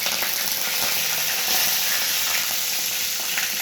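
Cumin seeds and curry leaves crackle and sizzle in hot oil, a loud, steady, dense frying hiss that holds evenly without any voices.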